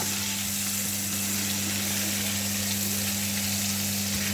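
Beef liver sizzling steadily in a frying pan while being stirred, a loud, even hiss with a low steady hum underneath and no talking.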